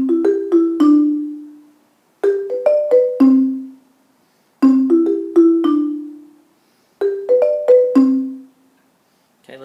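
A mallet instrument plays a chord sequence using crossover technique, in four clear phrases of quick struck notes, each ending on a ringing, decaying tone, with silence between phrases and no talking.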